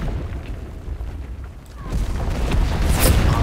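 A bomb blast in the Enlisted war game booms loudly after a quieter stretch of distant rumble, followed by a sharp crack and lingering heavy rumbling and debris noise.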